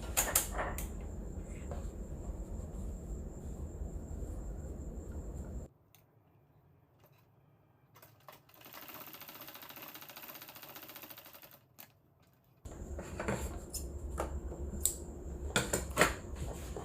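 A sewing machine runs in two bursts of steady, rapid mechanical stitching, tested after its upper thread tension was tightened to fix a top-stitch problem, with a quiet pause between the runs.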